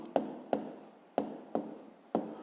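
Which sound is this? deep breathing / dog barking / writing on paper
writing on paper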